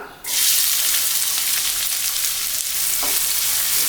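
Onions sizzle loudly and steadily in hot oil with cinnamon and fennel for a chicken gravy, a dense unbroken fry with a brief stirring scrape near the end.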